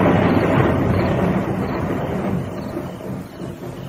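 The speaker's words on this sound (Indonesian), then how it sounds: "Bahkan langit kemudian pijar, dihentak oleh petir yang menggelegar." Deep thunder rolls through an approaching storm as clouds gather, a loud, continuous low rumble that slowly fades over a few seconds with no voices.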